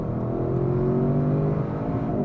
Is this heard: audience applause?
no